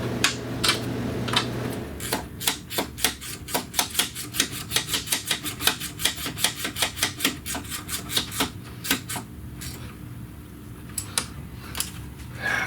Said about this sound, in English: Now we can tighten our 13mm up over here on that bracket.